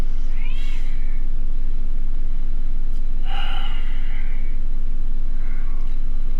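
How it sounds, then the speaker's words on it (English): A pet cat meows several times indoors, with a clear call near the start, a louder drawn-out one in the middle and a softer one near the end, over a steady low hum. "My cat has decided to join the meeting."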